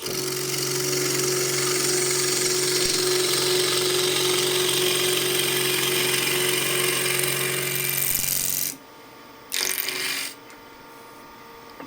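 A wood-turning gouge rides the bevel across a spinning box blank on a lathe, a steady loud rasping cut with motor hum for about nine seconds, then the cut stops, a brief burst follows, and it falls quiet.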